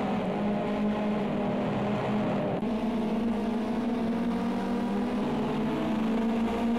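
Ginetta GT5 race car engines in the video game Project CARS 2 at Oschersleben, a steady droning pack of engines humming together, with a brief dip before the pitch shifts, and no voices heard.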